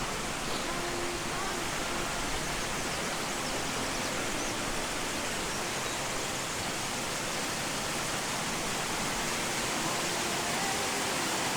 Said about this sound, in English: Okay, so here you can see a small little waterfall.